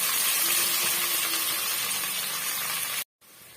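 Onions for chicken biryani fry in a pan with a close, steady sizzling hiss. The hiss breaks off sharply near the end and resumes more faintly.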